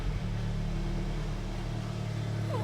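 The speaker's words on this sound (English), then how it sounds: "So let's start her up and we'll get her into the workshop." VW Golf R Mk7 engine, 53,000 miles, running steadily after start-up, a loud continuous low rumble close by with no clear crank or rev rise.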